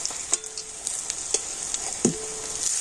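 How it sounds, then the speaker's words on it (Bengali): Onions fry in a shallow layer of oil, not deep-fried, with a steady, soft sizzle and occasional stirring clicks as they are turned, and no one speaks. "পেঁয়াজগুলো আমি একেবারেই ডুবো তেলে ভাজছি না তো এইভাবে কিন্তু ভেজে নিচ্ছি"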